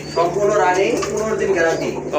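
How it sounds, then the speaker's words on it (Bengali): A big pair of crested Indian Bombay white pigeons coo softly and closely in short rolling bursts, with voices in the background. "এক জোড়া ইন্ডিয়ান বোম্বাই হোয়াইট কালার মার্শাল্লাহ যেমন ঝুটি তেমন কিন্তু বিগ সাইজের কবুতর"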